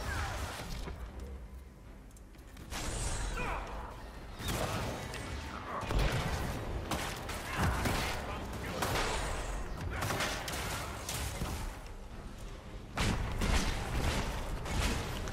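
A fire spell is cast in the combat of the video game Dragon Age Inquisition Trespasser, a run of whooshing bursts and crackles set amid busy, clattering battle effects throughout.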